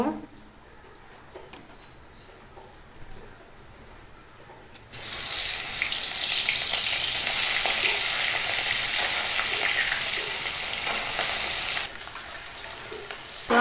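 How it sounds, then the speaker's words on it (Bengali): Fish rubbed with salt and turmeric bursts into a loud, steady sizzle as it hits hot oil in a wok, following several seconds of quiet kitchen sounds and continuing strongly to the end. "মাছগুলো ভেজে নেব।"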